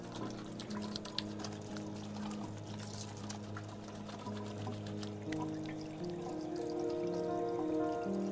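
Running water pours steadily from a tap while someone washes their face at night, a continuous splashing flow with faint background hum throughout.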